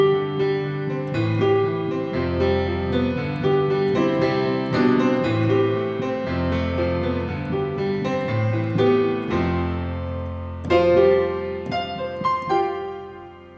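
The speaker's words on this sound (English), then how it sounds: "So what I've done is I've applied a chorus effect to the piano" A 7-foot Yamaha acoustic piano played through a chorus effect, with chords and a moving bass line ringing in a slow, steady rhythm. The tone is close, full and sustained, and no one speaks.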